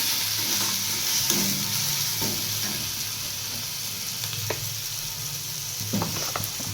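Masoor dal masala is stirred and fried with salt in a pan. A steady, close sizzle continues throughout, with soft scraping stirs now and then.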